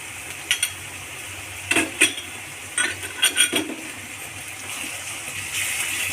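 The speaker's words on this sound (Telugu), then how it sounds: "ఒకసారి మొత్తం కలిపేసుకోవాలి" A spoon stirs ginger garlic paste into a potato mutton curry in a metal pot, with a few scattered scraping clinks and wet squelches over a quiet background hiss, close by and with no talk.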